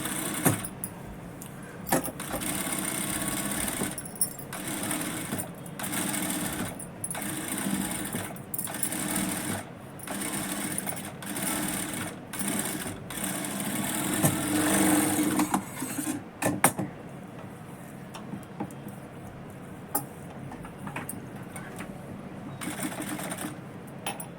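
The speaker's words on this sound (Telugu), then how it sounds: "దీని మీద మనం మళ్ళీ ఇంకోసారి డబల్ జాయింట్ వేసుకోవాలి, డబల్ స్టిచ్ అనేది వేసుకోవాలి" Electric sewing machine double-stitching the lining seam of a blouse, running in repeated steady bursts with short pauses between, close and fairly loud with no talking.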